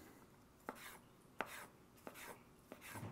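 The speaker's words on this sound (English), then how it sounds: "And then we're going to cut these into strips." Knife slicing a bell pepper into strips on a cutting board, five sharp, evenly spaced chops that are close and fairly quiet, with no talking.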